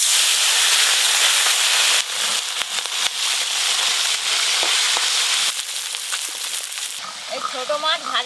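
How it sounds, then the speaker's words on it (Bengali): Small fish fried in hot oil in a home kitchen, a loud continuous sizzle and crackle with sharp pops, easing slightly toward the end as a voice speaks over it. "ছোট মাছগুলো এবার ভেজে নেব"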